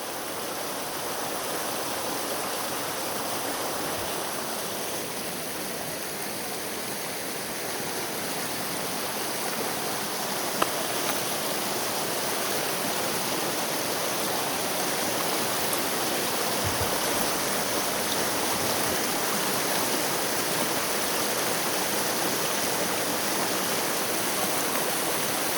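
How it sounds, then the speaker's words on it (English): A small river rushes and burbles steadily and without a break, a dense, even wash of water close by with no voices. "I had to record the sound of this small river."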